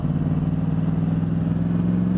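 Motorcycle engine running while riding, fitted with a new chain, a steady close mid-pitched drone with a faint rapid pulsing and slowly rising pitch, continuous without talk.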